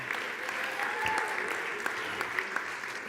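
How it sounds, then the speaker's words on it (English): Steady audience applause filling the room, many hands clapping at once at an even level, with a few sharper claps standing out. "we're going to give you a round of applause"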